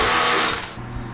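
Screws are tightened with a power tool while a glass bathroom partition is installed, a loud close whirring drive that tapers off after about half a second, followed by a quieter mechanical hum.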